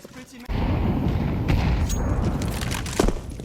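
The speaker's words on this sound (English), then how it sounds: "Pistols galore." Pistol gunfire in a Counter-Strike 2 match at IEM Cologne, a burst of sharp shots and booming impacts that begins abruptly and continues loud, with a caster's voice talking over it.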